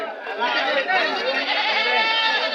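A goat kid at a livestock market in Tumakuru gives one long, loud, quavering bleat from close by.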